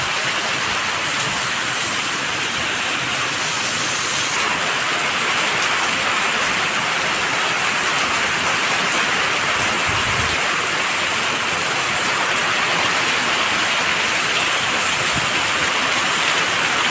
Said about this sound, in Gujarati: ધોધમાર વરસાદ પડે એમ થાય